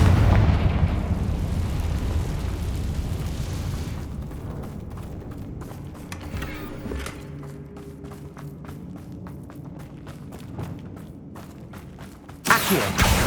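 Confringo fire spells blast in the video game Hogwarts Legacy, a string of rumbling booms and crackling bursts with a sharp, loud final blast near the end.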